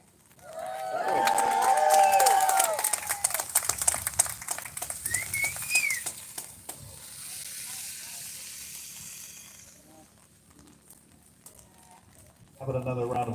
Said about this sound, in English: How about another round of applause for our wonderful senator from the 33rd District?